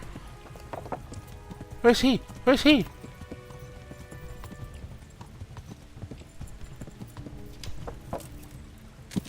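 Horse hooves clip-clop steadily in Kingdom Come: Deliverance, with a loud whinny near the two-second mark and another shorter call after it. Someone talks excitedly over the hoofbeats.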